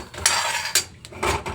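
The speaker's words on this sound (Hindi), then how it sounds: "पहले अपने हम मूंगफली की गिरियों को अच्छे से भूनते हैं।" Peanut kernels dry-roasting in a pan with nothing added, stirred over slow-to-medium gas: a few sharp scraping clatters of a utensil against the pan alternate with the dry rustle of nuts tumbling, near and fairly loud, with no voices.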